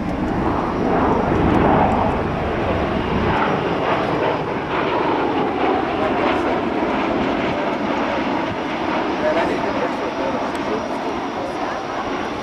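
A CV-22 Osprey tiltrotor with counter-rotating proprotors flies a demonstration at the 2007 Vectren Dayton Airshow, its broad, steady engine and rotor roar sustained throughout at close-to-moderate distance, with crowd and announcer noise mixed underneath.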